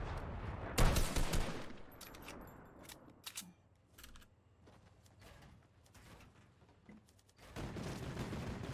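Turret gunfire in Fortnite Battle Royale, a loud rapid burst up front, then scattered sharp shots and clicks over quieter stretches, ending with another sustained stretch of fire.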